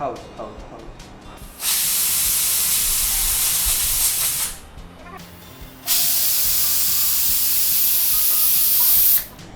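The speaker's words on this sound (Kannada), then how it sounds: "ಈಗ ವಿಸಿಲ್ ಬಂತು, ಕುಕ್ಕರ್ ಆಫ್ ಮಾಡೋದಲ್ಲ, ಗ್ಯಾಸ್ ಆಫ್ ಮಾಡೋದು." A pressure cooker on a gas stove, cooking vegetable pulao, releases two long, loud, steady hisses of escaping steam separated by a short quiet gap.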